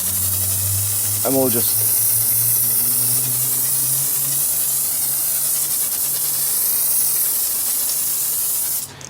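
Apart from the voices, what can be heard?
Maralex pressurized sprayer spraying foam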